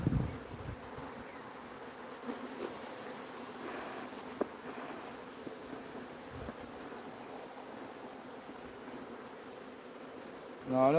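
A dense, steady hum of many honeybees buzzing close by at an open hive during inspection, continuous and low, with a few louder passes near the end.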